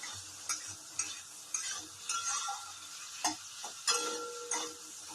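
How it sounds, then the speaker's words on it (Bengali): Potatoes fry in a pan with grated ginger, cumin powder and coriander powder, a soft sizzle broken by regular clinks and scrapes of a spoon stirring, close and fairly quiet. "তো আলুটা একটু লাল লাল করে ভেজে নিই।"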